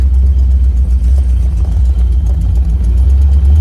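A small block Chevy 350 V8 engine runs steadily at close range, a deep throbbing low rumble with a slightly uneven lope, no voices.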